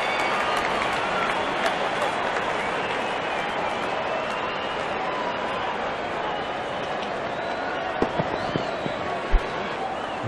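Crowd applauding at an England vs Australia T20 cricket match, a sustained wash of clapping and cheering from a large stadium audience, steady throughout with a few sharp knocks near the end.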